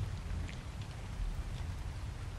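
Rain in the video game Ark, a steady soft hiss of falling drops with low rumbling underneath, even and continuous throughout at a quiet level, with no talking.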